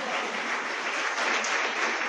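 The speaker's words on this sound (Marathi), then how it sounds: "टाळ्या वाजवा बघू एकदा जोरात." An audience of teachers at a training session clapping loudly together, a dense, even burst of applause held for about two seconds.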